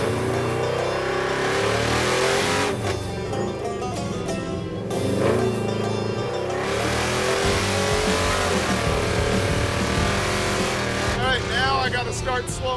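Chevy muscle truck accelerating hard in first gear, a loud, steady engine roar that rises and shifts in pitch throughout, with people talking over it.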